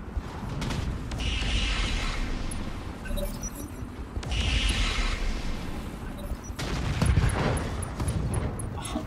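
Mech weapons fire in the Roguetech mod of BattleTech, a dense, continuous barrage of booming shots and clattering gunfire with three heavier swells of volleys, loud throughout with no talk.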